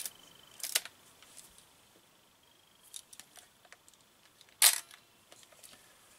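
An Exakta analog camera has its shutter worked in a quiet room, with a few sharp mechanical clicks and small handling sounds spread out over several seconds.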